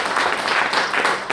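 Applause from an audience at a training session, a dense steady patter of many hands clapping throughout the short burst, loud and close, with no talk over it.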